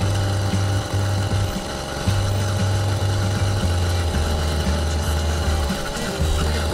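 A car engine with piston knock and a new exhaust idles close by, a steady low rumble with a rhythmic hum that wavers slightly, running on its own without voices.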